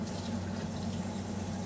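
Tap water running steadily into a tub or sink for a dog's first bath, a soft, even rushing flow heard up close with no talking.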